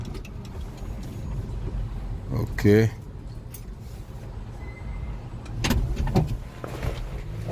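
The right-side power sliding door of a 2011 Chrysler Town & Country van operates with a brief motorized whir and clunk, followed later by another mechanical thud, against steady cabin background noise, with a voice speaking briefly nearby.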